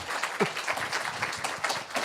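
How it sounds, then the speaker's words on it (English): An audience claps for a speaker being welcomed at a science talk in a club, a steady patter of applause from a modest crowd. "Can I have a big round of applause for Dr."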